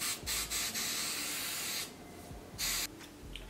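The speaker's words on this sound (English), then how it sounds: "So I just did one more layer of spray because I want it to look clear." Hairspray misted over a frontal ponytail hairstyle: a close, continuous hiss with a few louder short bursts at the start and near the end.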